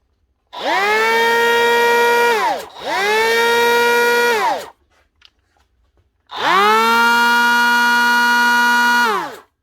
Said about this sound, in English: One Dewalt brushless planer, DCP580, type 1, up and running again.